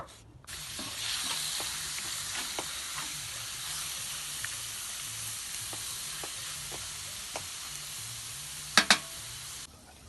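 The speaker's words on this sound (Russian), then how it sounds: "Сейчас мы будем первым обжаривать мясо." Cubed meat fries in a pot over a campfire outdoors while cooking pilaf, giving a steady, moderate sizzle with a few sharp clicks and stirring knocks, near the end.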